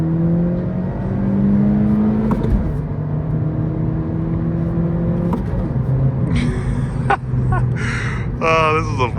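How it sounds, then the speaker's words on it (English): A 10th-generation Honda Civic Si with a manual gearbox revs through driver-matched downshifts, its engine note rising and falling loudly inside the cabin while a person talks over it. "Let's do a few downshifts here and see if we can get a little pull in."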